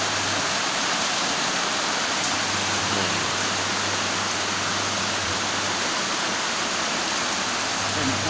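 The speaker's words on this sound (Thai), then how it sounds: "ฝนตกครับตอนนี้ นกำลังตกอยู่เลย" Steady, dense rain falls in the countryside, a loud continuous hiss with no breaks, and someone speaks faintly beneath it.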